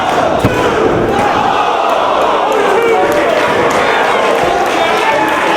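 A wrestling arena crowd at a Ring of Honor show erupts as a near-submission hold nearly forces a tap, with loud sustained roaring and cheering from a large audience and a commentator talking over it.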